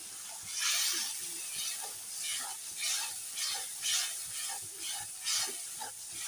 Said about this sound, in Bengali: নেড়ে নিলাম মশলাটা।